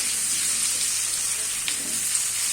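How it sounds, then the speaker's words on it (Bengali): Potatoes fry with onion in a hot pan for a tengra fish curry, a steady close sizzle hissing throughout with a faint stir partway through. "এখন আলুটাকে আমি পেঁয়াজের সাথে ভাজতে থাকি।"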